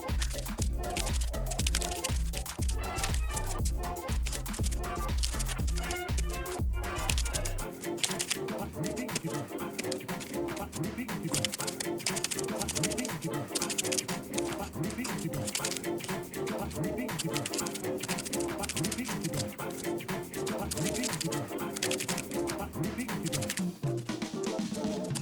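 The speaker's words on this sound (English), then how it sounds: "I'm going to shuffle and then we'll talk about what your reading has in store for you." Tarot cards being shuffled during a love reading, a steady stream of soft riffling and flicking that runs close and continuous for the whole stretch, with a low rumble dropping away early on.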